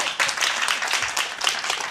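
A short burst of clapping from a group, brisk and fairly close, sustained throughout with no talking.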